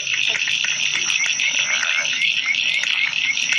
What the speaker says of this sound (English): Whistling tree frog. Oh wow. Growling grass frog.